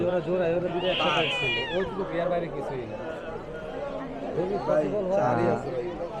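Cats meow and yowl amid steady chatter at a busy cat market in Mirpur 1, Dhaka, where Persian cats are sold. A few sharp, close meows rise over people talking nearby.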